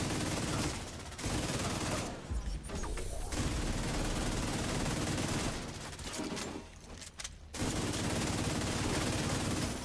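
Rapid bursts of video game gunfire rattle in long, dense volleys with brief pauses between them, loud and continuous across the scene.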